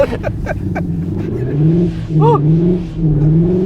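Cupra Leon Sportstourer e-Hybrid engine revving under acceleration in second gear, a loud rising and falling drone heard from inside the car, with brief voices and clicks at the start.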